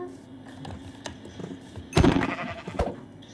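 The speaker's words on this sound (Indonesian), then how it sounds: "Domba." Minecraft sheep bleat in short, bright bursts, two clear calls close together near the middle of a brief stretch of game noise with faint clicks.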